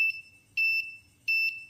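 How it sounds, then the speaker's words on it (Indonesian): A multimeter's continuity buzzer, used while testing cables to repair a guitar-to-soundcard V8 converter, gives a short chirp and then two longer steady high-pitched beeps as the probes touch, clear and close in a quiet room. "kalau aku sentuh begini ya saat buzzer nyala"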